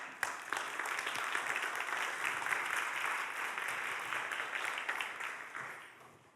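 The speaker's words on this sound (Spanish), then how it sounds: "Un aplauso para ella." Steady applause from an audience at a school mental health colloquium in Madrid, a dense even wash of many hands clapping that fades toward the end.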